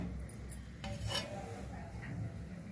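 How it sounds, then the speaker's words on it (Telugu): A metal kadai is set down on a lit gas stove, giving a brief clank and scrape of pan on burner grate, faint and close, followed by a soft low burner hum. "స్టవ్ వెలిగించి కడాయి పెట్టాను"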